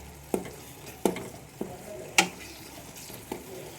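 Ginger garlic paste frying in a pan, a low sizzle under a few distinct clanks and scrapes of a utensil stirring, spaced irregularly and close by.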